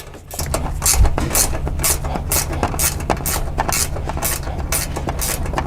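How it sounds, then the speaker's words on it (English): A stubby ratcheting wrench works loose the bolts of an SVCOFFROAD Baja flush front bumper, giving a steady run of quick, close metallic clicks over low mechanical rumble, with no one talking. "So you want to get a nice little stubby ratcheting wrench or whatever you can to get in there and get those off."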